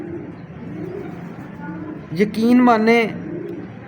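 A female long-distance racing pigeon coos in low, soft, throaty murmurs close by, rising to a brief louder burst, while someone speaks over it.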